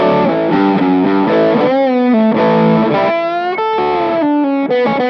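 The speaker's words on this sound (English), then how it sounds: "if I turn on the Shiba Drive Reloaded, and then kick in the Koko Boost," Electric guitar driven through Shiba Drive Reloaded overdrive and Koko Boost pedals, playing a loud sustained distorted melodic line with bent, held notes and no pauses.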